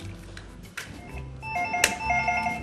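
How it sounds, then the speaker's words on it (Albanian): A telephone rings with an incoming call in a radio studio during a cooking show, a single bright ring burst rising above low background room sound. "Kemi një telefonat që kam bërritur në studion ton"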